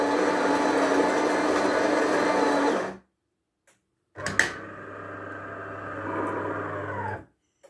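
The built-in coffee grinder of a Delonghi ESAM 3600.S coffee machine whirs loudly and steadily for about three seconds and stops. After a short silence, a second mechanical hum runs for a few more seconds up close.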